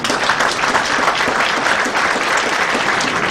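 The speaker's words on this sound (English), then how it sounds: "The Honorable Minister proceeded to name the newly appointed board members to the applause of all gathered." A gathering gives loud, dense applause as newly appointed board members of the Nigerian maritime agency are named by a minister, a continuous wash of many clapping hands.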